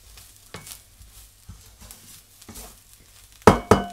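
Ginger and garlic sautéing in a masala paste for Malvani chicken sagoti, with soft intermittent stirring scrapes and a faint sizzle, ending in two sharp, loud clanks of a spoon against the pan.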